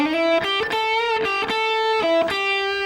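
An electric guitar plays a blues shuffle lick as a quick run of picked notes with a few sustained tones, clean and close, with no voices.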